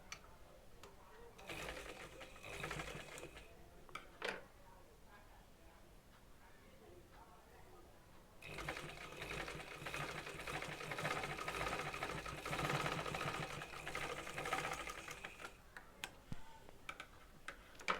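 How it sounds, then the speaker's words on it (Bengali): A sewing machine stitches the half-inch side seam of a designer sleeve, first in short stop-start bursts and then in a steady whirring run through the middle of the clip. A voice talks over it. "তো এটা আমি সেলাই করে নিচ্ছি এই যে সাইডে"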